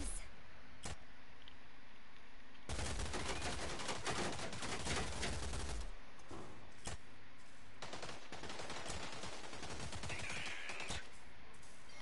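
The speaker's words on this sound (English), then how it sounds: "I'm shooting him, but it does nothing." Video game shootout with sharp bursts of gunfire, including a sustained rapid volley in the middle and several isolated single shots before and after, fairly close, with a voice talking at times.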